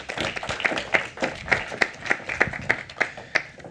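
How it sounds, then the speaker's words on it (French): An audience claps for two panel speakers at a round-table talk on attracting talent, a fairly small crowd with a steady, moderately loud patter of hand claps and no talking. "On peut les applaudir toutes les deux."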